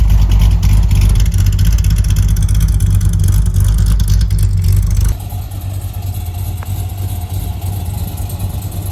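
Engine-swapped Corvette C6 Z06 on its first drive, a deep loud engine rumble pulling hard, then dropping abruptly to a quieter, steadier drone midway through.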